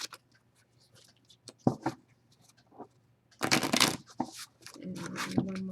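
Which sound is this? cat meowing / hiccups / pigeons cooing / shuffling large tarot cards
shuffling large tarot cards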